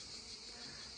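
Honeybees buzz around a hive on a farm in Trabzon, a dense, steady, close-up drone that fills the whole moment without pause or voices.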